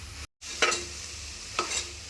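Vegetables with a handful of mint and coriander leaves being stirred in a pan for vegetable biryani: a steady low sizzle with two distinct scraping stirs a second apart, after a brief dropout near the start.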